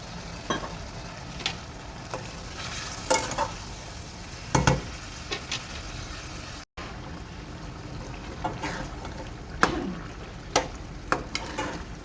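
Minced meat keema fries in a pan with tomatoes and salt, a steady close sizzle broken by scattered clinks and scraping stirs.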